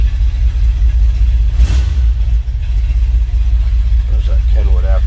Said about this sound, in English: Look at that 390, a little rumble to it.